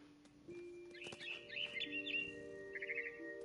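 A bird chirps in a video game, bright repeated tweets and short trills close by over a soft background drone of steady tones.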